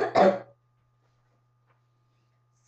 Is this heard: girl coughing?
yes